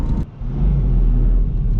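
A Mustang with a 2JZ engine rumbles steadily as it drives, low and close, with a brief dip near the start before the drone resumes.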